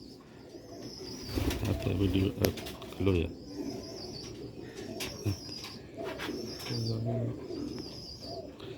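White tiger breed pigeons coo in soft, repeated low rolls close by, with a few higher bird calls and brief wing flutters, while someone speaks briefly over them.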